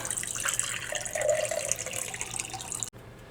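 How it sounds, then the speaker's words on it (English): Fresh water pours steadily into a pressure tester, a continuous close splashing rush that stops abruptly near the end. "let's pour some water, fresh water, into the pressure tester"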